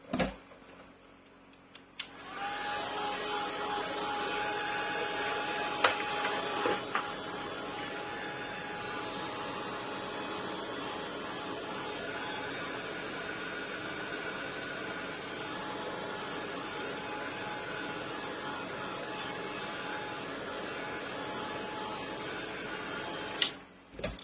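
A heat tool drying matte medium on a gothic craft tag blows a steady, close whirring roar that holds level for about twenty seconds and then cuts off.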